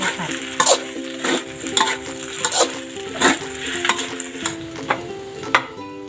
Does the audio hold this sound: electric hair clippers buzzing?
no